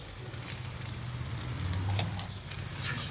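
Egg noodles fry on a high flame in a pan, giving a continuous loud sizzle with crackling and a low roaring burner underneath.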